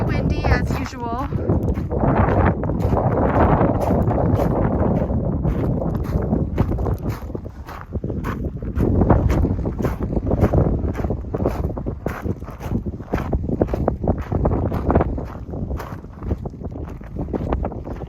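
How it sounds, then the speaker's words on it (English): Strong mountain wind buffets the microphone along a rocky alpine trail, a continuous heavy roar, while a person talks and footsteps crunch steadily underneath. "Very windy as usual."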